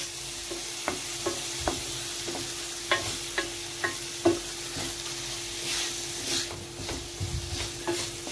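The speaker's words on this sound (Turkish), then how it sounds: "Şöyle bir karıştıralım." A spoon scrapes and knocks through bulgur pilaf in a pot, irregular stirring taps over a low, steady sizzle, fairly close and with no talk.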